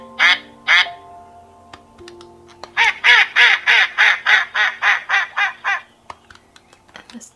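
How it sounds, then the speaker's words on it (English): Mallard duck calls: two short female quacks, then a long descending series of about a dozen loud, rhythmic female quacks, followed by a few faint softer calls, clear and close. "next one is a mallard duck, but also it gives the female 2 different calls and then the male call"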